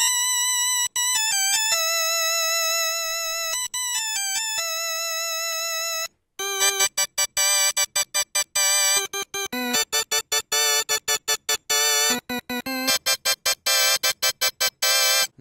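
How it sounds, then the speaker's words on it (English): A bright, shrill Vox Continental combo organ sound plays, first sustained chords, then rapid staccato stabs in a bouncy rhythm, loud and up close. "Nice shrill Vox Continental sound."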